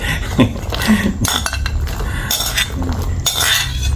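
Curry paste stirred into shrimp coconut curry in a pot, a utensil clinking and scraping against the metal in quick irregular strokes, close and fairly loud, with no talking.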